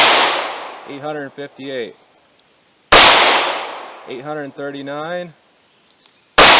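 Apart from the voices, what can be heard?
38 Special 125 grain pocket gun shots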